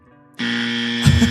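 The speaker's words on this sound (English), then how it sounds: "I understand that we're gonna give a buzzer for that" A loud, harsh game show style buzzer cuts in abruptly and holds steady as one sustained electronic tone, with a brief burst of louder noise near its end, heard during a BLAST R6 Munich Major esports broadcast.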